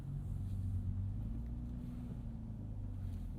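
Nissan Z twin-turbo V6 sports car with a 6-speed manual reversing into a corner parking spot, a low steady engine rumble throughout, heard from inside the cabin.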